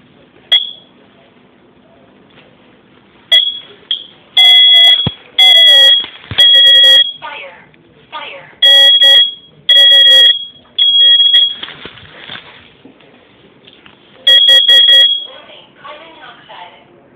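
A carbon monoxide alarm sounds in loud bursts of shrill electronic beeps, repeating in short clusters with gaps between, close and piercing, while faint voices talk in the background.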